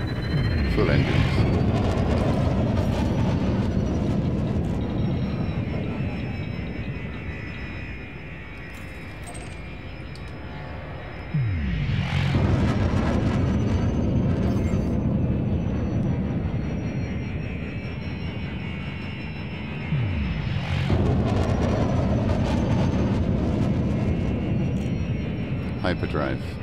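Spaceship engines roar at full thrust in the Elite Dangerous space game, a loud sustained jet-like rumble with two surging swells, while a synthetic ship voice speaks over it.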